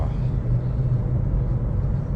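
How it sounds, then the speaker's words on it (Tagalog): Heavy southbound road traffic jam on a bridge, a steady low engine rumble of idling and crawling vehicles filling the background at moderate level without clear passes or horns. "Ang haba ng traffic."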